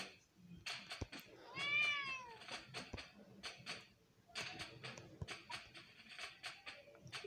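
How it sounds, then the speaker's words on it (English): A cat meows indoors, a clear drawn-out meow amid scattered clicks, rustles and handling noises, fairly close but quiet overall. "You stupid cat, stop it."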